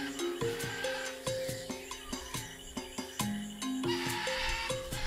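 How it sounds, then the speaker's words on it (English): Birds screech in the video game The Journey Down: Chapter 2, a string of shrill, tonal squawks repeating in a quick, uneven rhythm over the game's background ambience, with no voices. "Oh man, those birds really need to shut up."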